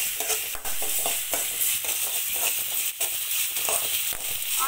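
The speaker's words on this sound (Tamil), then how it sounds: "ஆனியன் வந்து ஆயிலில் நல்லா ஃப்ரை பண்ணி விடுங்க." Onions fry in oil in a pan for sambar, a soft steady sizzle broken by repeated scraping stirs, close and fairly quiet, with no talking.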